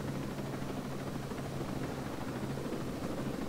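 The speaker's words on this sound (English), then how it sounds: "the drone's just hovering there, stuck to the helicopter" Helicopter rotor noise in the video game Ghost Recon Breakpoint, with a drone hovering alongside it, a steady close droning whir that holds constant throughout with no talking.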